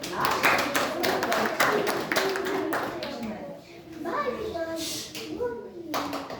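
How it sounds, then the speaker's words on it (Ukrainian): Scattered, uneven clapping from a small group, with children's voices chattering and calling out around it. "аплодисменты."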